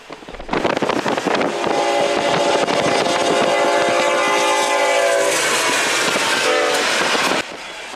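Union Pacific Big Boy 4014 steam locomotive passing with a loud sustained horn chord that holds for several seconds over rumbling wheels and clattering rails, close and powerful, then cutting off abruptly.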